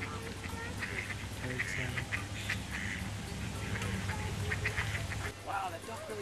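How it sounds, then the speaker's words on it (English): Ducks at the South Park pond quack repeatedly in overlapping bursts, fairly near and steady throughout, with people talking and outdoor noise behind them. "And here are the South Park ducks."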